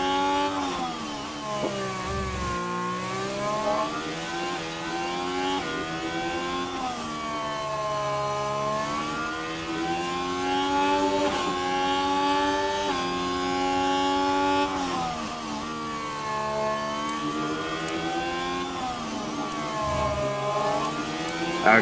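A Formula 1 car in the F1 Manager 24 racing game, on the Singapore street circuit, working through an overtake, its engine rising and falling in pitch as it revs hard, loud and steady throughout with no talking.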